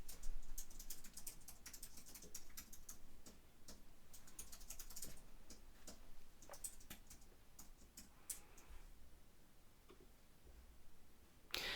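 Someone types on a computer keyboard while filling in an online application form. The keys clatter in a steady stream of quiet, close taps that keep up for several seconds, with brief pauses and a louder key press near the end.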